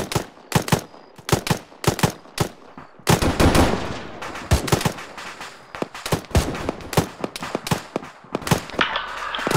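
Machine gun suppressive fire in the video game Arma 3 crackles in loud, sharp bursts and single shots, some rapid and clustered, others spaced apart, with a denser stretch of sustained firing near the middle.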